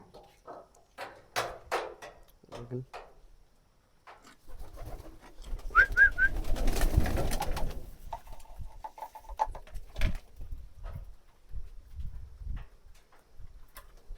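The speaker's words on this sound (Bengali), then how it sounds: "দেখেন কবুতরগুলো ঠিকঠাক মতো খাবার খাইতে আছে" Domestic pigeons feed inside a coop, kept in by rain, with soft pecking and patter, a brief low coo, and a burst of wing flutter midway.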